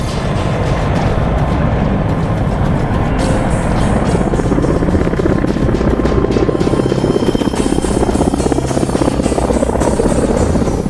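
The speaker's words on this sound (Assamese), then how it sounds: "টেংক হেলিকপ্টাৰ চালনাৰে যুদ্ধৰ কৌশল।" A military helicopter flies during an army exercise with tanks and paratroop drops, its loud, steady rotor thumping filling the scene close by without pause.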